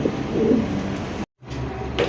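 Pigeons coo softly and repeatedly, Pakistani, Danish and Damascene birds in a loft, a low murmuring call broken by a short gap of silence.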